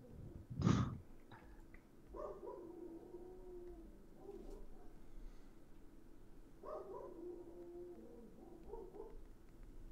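Far-off dog sounding at one in the morning, a couple of faint drawn-out barks or howls spaced several seconds apart over a quiet room, after a sharp thump near the start.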